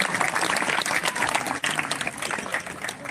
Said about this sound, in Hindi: मित्रों, इस संस्था के लिए जोरदार तालियों से स्वागत किया जाए।